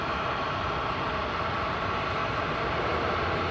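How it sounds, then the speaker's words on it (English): An Embraer 170 jet from Chihuahua approaching DFW Airport makes a steady, even roar of engine noise, constant in level and somewhat distant, with no voices over it. "Embraer 170 from Chihuahua."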